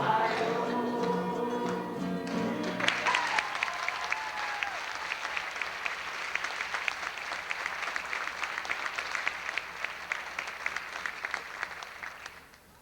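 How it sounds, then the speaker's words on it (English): Team conference audience clapping along after a chanted music segment, with fading tonal sound giving way to many hands clapping in a rough shared rhythm that holds steady and then trails off. "Excellent clapping, guys."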